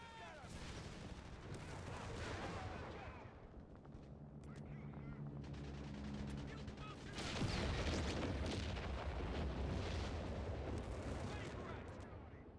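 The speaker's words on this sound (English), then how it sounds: "We got a bomb with Jerry's name on it. Airstrike incoming!" Airstrike bombs burst in the Graviteam Tactics: Mius-Front war game, a series of heavy booms and rumbling blasts over a crackle of gunfire, the loudest explosion arriving midway and rolling on to the end.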